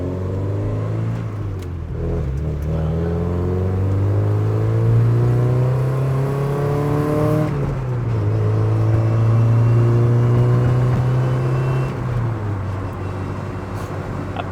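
A Porsche 944 engine drones steadily and rises in pitch as it accelerates, drops briefly with a gear change, then climbs again, heard from inside; the car is a barn find driven for the first time in three years.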